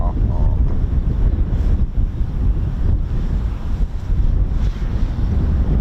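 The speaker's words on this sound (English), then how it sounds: "Don't know if you can hear that wind. It's pretty brutal here." Strong, gusty wind blows at an RAF airfield, roaring steadily across the microphone as a loud, continuous buffeting rush.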